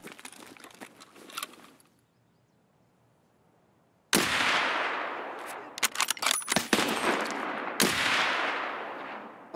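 Gunfire in the Escape from Tarkov video game: a brief burst, a quiet pause, then loud repeated shots and rapid bursts that crack close and dominate the mix.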